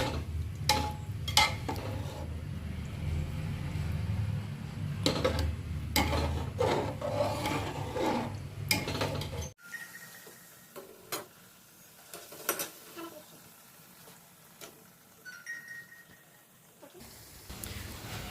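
Food with khoa is stirred in a pan on a gas stove, a spatula rasping and scraping in repeated strokes against the metal with a faint sizzle, close up, switching midway to quieter, sparser scrapes.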